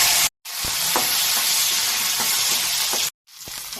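Dal bori lentil dumplings frying in oil in a pan, giving a loud, continuous sizzle broken by two short silences, with faint stirring scrapes and taps beneath the hiss.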